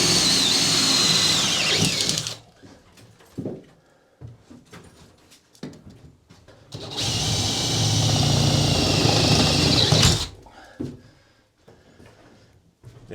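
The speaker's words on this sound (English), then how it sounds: "Now, drilling through the aluminium" A power drill bores through the aluminium skin of a 1975 Viscount caravan in two loud, sustained whining bursts separated by a quiet pause with faint knocks and handling noises.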